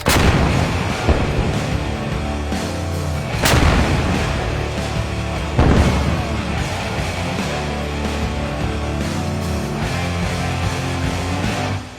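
Three heavy artillery gun blasts boom out a couple of seconds apart, each with a sharp crack and a long rumbling echo trailing into the distance; a Ukrainian artillery crew firing.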